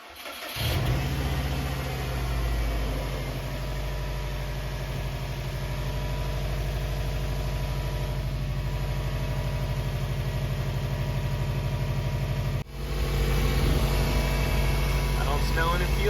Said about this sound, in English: I'm just gonna clear out the tools and give it a first start up